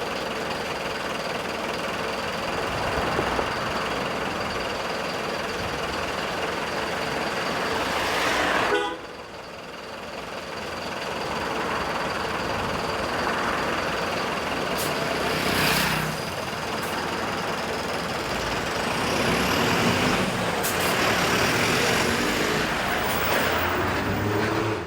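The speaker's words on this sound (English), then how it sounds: "This is a tourist bus." A toy tourist bus, red and black, gives off a continuous electronic tooting horn and motor-like sound that plays steadily and loudly for the whole stretch, with one short dip partway through.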